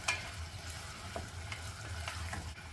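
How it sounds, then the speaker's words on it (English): Butter chicken sizzles in a pan with paprika, cilantro and coriander powder, a soft, steady frying hiss broken by light scraping stirs. "Give it a little stir."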